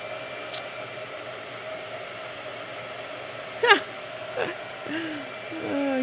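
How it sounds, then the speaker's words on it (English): A blow dryer drying a small gouache painting, a steady whooshing hiss that runs throughout at moderate level, with a few brief voice sounds over it. "Blow dryer."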